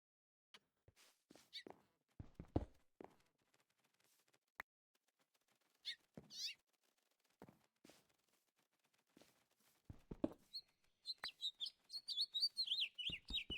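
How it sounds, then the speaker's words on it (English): Birds chirp in modded Minecraft among scattered taps and footsteps, the chirps growing into a quick run of tweets near the end, all fairly faint. "I think I hear a bird."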